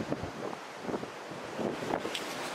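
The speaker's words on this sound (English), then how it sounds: "It is really windy today" Strong gusts of wind on North Hill overlooking Cardiff buffet the microphone in rumbling, rushing bursts, with no one speaking.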